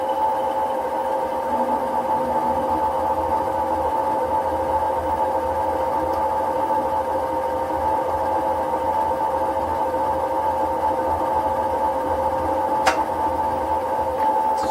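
A small bit drills a clearance hole for a homemade valve stem removal tool, a steady, continuous motor whine and hum that holds an even level throughout, with a single faint click near the end.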